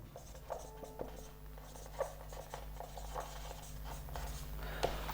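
Chalk or marker strokes on a board during a chemistry lecture come as faint, scattered short scratches and taps over a low room hum, with no talk.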